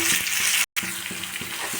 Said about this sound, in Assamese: পিঁয়াজখিনি ভালদৰে ভাজি থাকিম